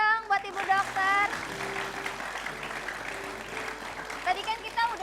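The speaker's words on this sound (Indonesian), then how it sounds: "Boleh tepuk tangan dong buat Ibu Dokter." Studio audience on an Indonesian television talk show applauds for a woman doctor, with music and voices over the clapping and talk toward the end.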